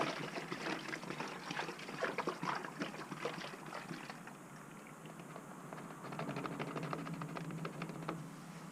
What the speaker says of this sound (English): Then we can pour this one into here.